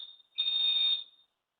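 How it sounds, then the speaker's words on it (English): A building's fire alarm sounds a single loud, shrill electronic beep lasting about half a second, standing alone against near silence, with a fainter tail and onset around it. "Is that a fire alarm?"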